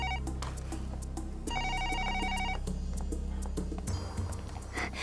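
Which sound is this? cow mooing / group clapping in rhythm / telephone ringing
telephone ringing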